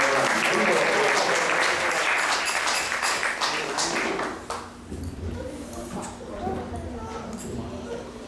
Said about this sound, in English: Let's give a round of applause for Jayanti Bhai.